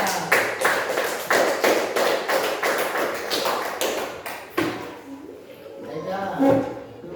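Children clap their hands in a quick, uneven burst of sharp claps that fades after a few seconds, followed by quieter room noise and a voice.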